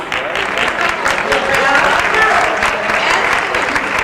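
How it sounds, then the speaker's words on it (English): A crowd gives students a sustained round of applause, dense and steady throughout, with faint voices mixed into the clapping. "I want everybody to give them a round of applause"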